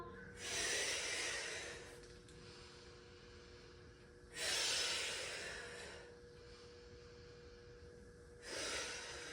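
Slow, deliberate breaths during a resistance band exercise, with three long airy exhalations spaced several seconds apart, close and fairly soft, with no talking.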